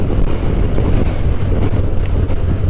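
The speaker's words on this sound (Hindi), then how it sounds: "डैलस में हवा बहुत तेज़ चलती है" Strong wind in Dallas buffets the microphone while riding a heavy motorcycle, producing a loud, constant low roar that fills the whole stretch with no voices.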